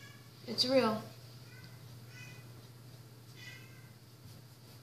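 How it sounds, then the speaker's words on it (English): A house cat lets out one clear, fairly loud meow near the start, then makes a couple of fainter, shorter mews in the background while a person talks over a steady low hum. "sorry if you can hear my cat in the background"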